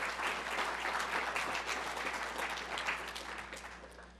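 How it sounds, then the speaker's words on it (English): Audience applause for volunteers at a Hall of Famer speaker event: steady, fairly faint clapping from a crowd, sustained evenly for a few seconds with no talk over it. "Let's give them a round of applause as well."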